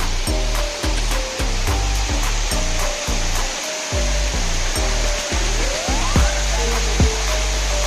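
Simili waterfall in Nayagarh, Odisha, roars with rushing water as a steady, loud broadband wash, close by, with intermittent low thumping bursts cutting through.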